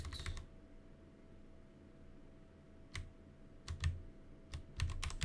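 Keys clatter on a computer keyboard during a game development session: a quick burst at the start, a quiet pause, then several sharp scattered clicks and short flurries toward the end, close and clear with no talking.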